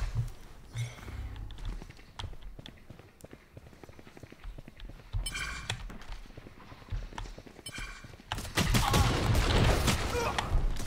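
Rapid bursts of gunfire in the video game Valorant: a few quick shots, then a loud sustained volley near the end, with game sound throughout.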